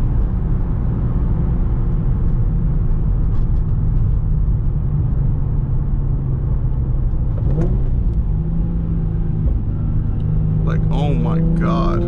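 A Nissan 350Z with a stage 3 clutch blips its engine in rev-matched downshifts, a steady loud rumble that rises and falls in pitch with the revs, while people talk over it inside the car.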